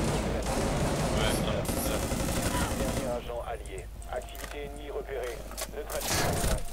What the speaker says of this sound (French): Et hop, la grenade!